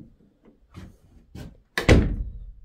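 Door fitted with newly installed hardware swinging shut, a few soft knocks and rattles leading to one sharp, solid slam of the latch, close and clear.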